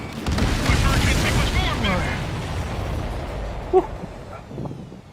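Fireworks-like explosions rumble and crackle in the Ace Combat 7 video game, a dense, loud wash of blasts and debris that fades slowly, with one sharp pop near the end.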